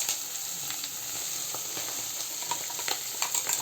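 Sliced bitter gourd (kakarakaya) frying in a pan as garlic chili powder is added, a moderate steady sizzle with scattered crackles and soft stirring taps toward the end.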